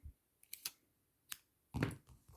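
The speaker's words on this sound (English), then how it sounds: "You're going to cut your red yarn" Scissors snip through red yarn during a crochet watermelon ornament project, a few faint, sharp clicks spaced irregularly in a quiet room, with one fuller rustling cut near the end.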